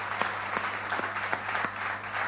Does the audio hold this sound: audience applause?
yes